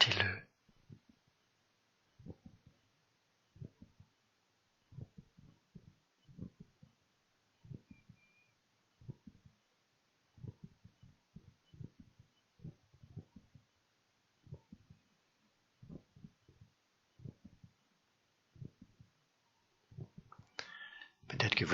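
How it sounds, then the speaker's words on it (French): Faint heartbeat picked up by a microphone during a quiet meditation, a steady series of soft low thumps repeating about once a second, with a brief louder noise at the start and end. "Peut-être aussi le bruit des battements de mon cœur. Je sais qu'on les entend parfois dans le micro."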